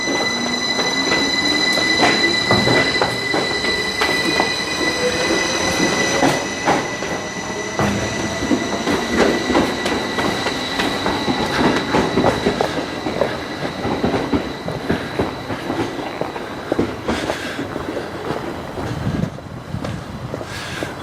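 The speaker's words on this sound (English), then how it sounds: "There's a train just pulling out there for Leeds at the look of it." A train pulling out of a station rumbles loudly and continuously nearby, with squealing wheels, rail clatter and a rising mechanical whine as it gets moving.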